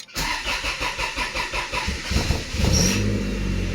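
A turbocharged Honda Accord engine cranks in quick, rhythmic pulses for about two and a half seconds, then shifts into a louder, steadier roar up close.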